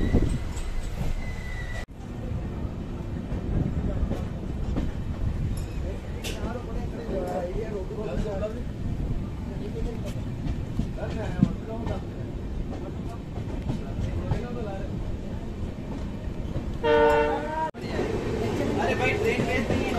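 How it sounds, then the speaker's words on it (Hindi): Aboard the first Udaipur-to-Asarwa passenger train as it gets under way, a continuous low rolling rumble fills the carriage under background chatter, with a brief metallic squeal toward the end. "फाइनली हमारी जो ट्रेन है चल पड़ी है"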